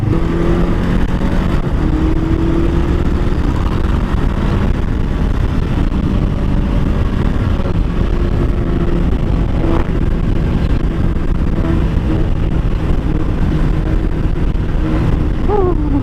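Bristol Veloce 500 motorcycle engine on an open road test ride, a loud continuous rumble with shifting pitch as it pulls, heavy wind buffeting throughout and no talk.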